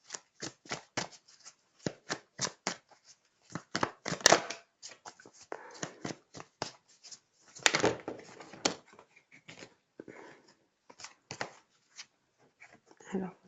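Tarot cards are shuffled and handled close by, giving a rapid string of crisp riffling snaps and flicks with brief pauses between bursts.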